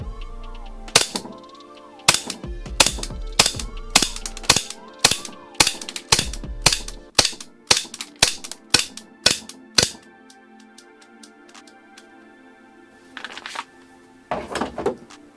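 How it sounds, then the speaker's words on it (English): A Tyrant gas blowback airsoft pistol with weakening gas fires a rapid string of sharp cracks, about twenty shots in quick succession, then a pause and a couple more pops near the end. "I can hear that I even feel that the gas is getting weaker, but it's still spitting out them BBs."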